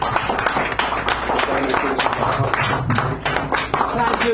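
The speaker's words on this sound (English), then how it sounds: "Give a big round of applause for Mr." Audience applause in a small room at a San Francisco cafe poetry hour, a steady dense patter of many hands clapping throughout, with a voice or two murmuring underneath.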